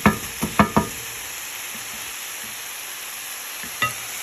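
Mushrooms frying in a pan, with a few sharp stirring scrapes at the start and one more near the end over a steady low sizzle.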